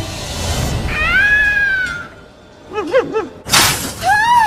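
A cat meows in a few loud, close cries, first a long drawn wail, then short quick mews, amid a crash and mixed film sound effects.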